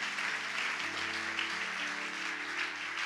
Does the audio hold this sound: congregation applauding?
yes